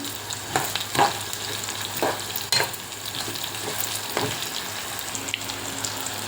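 Steady sizzling of vegetables frying in a pan for beetroot chutney, with occasional louder crackles and stirring scrapes; no talking.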